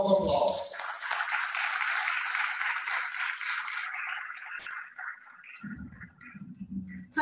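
Audience applauding to welcome a District Governor at a Rotary Youth Exchange seminar, a broad steady wash of clapping for about five seconds that thins out, followed by low murmuring.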